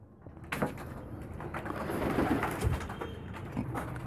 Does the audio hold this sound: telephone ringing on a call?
no